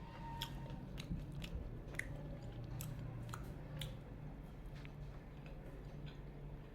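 Someone chews a mouthful of bata fish with gravy close to the microphone, giving soft, irregular wet bites and crunchy clicks over a low, steady background hum, without talking.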